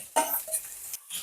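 Sliced onions and green chillies hit a hot pan for Andhra mutton iguru, with a short burst of frying hiss and a couple of brief utensil clinks, close and fairly quiet.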